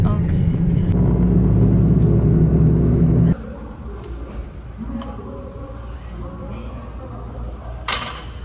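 A Mercedes car drives along snowy roads, its engine and tyre rumble loud and steady at first, then dropping to a quieter cabin drone for the rest of the clip.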